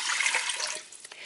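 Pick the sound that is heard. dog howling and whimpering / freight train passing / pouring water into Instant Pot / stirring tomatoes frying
pouring water into Instant Pot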